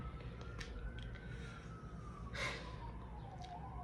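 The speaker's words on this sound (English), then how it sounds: "there's a fucking ambulance coming by right now" An ambulance siren wails and passes by in the distance, its rising and falling tone drifting over steady low traffic rumble.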